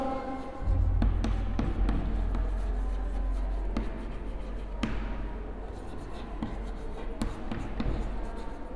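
A pen scratches across paper in short strokes and taps, close and fairly clear against a low steady hum, with brief sharp marks at irregular intervals and no talking.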